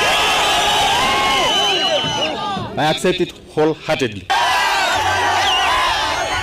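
A political rally crowd for a candidate running for Narok Governor cheers and shouts loudly, breaks off briefly while someone speaks in the middle, then roars again.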